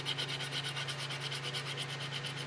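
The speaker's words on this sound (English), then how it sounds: "it's just hand sanding" Steady, rhythmic rasping strokes of hand sanding a wooden cutting board, a continuous close scratchy back-and-forth with a low hum underneath.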